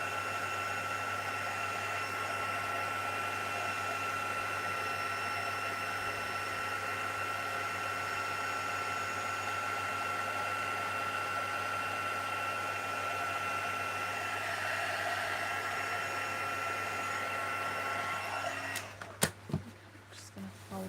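A heat tool blows steadily over a watercolour-inked stamped card, a continuous close whooshing hum with a low electrical drone, running unbroken for about eighteen seconds before cutting off into a few clicks and handling noises.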